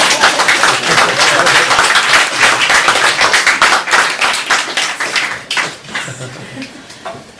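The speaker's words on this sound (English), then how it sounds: "You can clap." A festival audience breaks into loud, close applause that holds strong for several seconds, then thins into scattered individual claps and a few murmured voices as it dies away.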